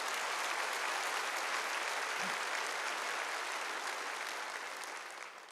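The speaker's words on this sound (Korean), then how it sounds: "박수를 치려고 세게 쳐." Church congregation at a Wednesday worship service applauding hard, a dense, steady wash of clapping that fills the room and stays loud throughout before easing slightly at the end.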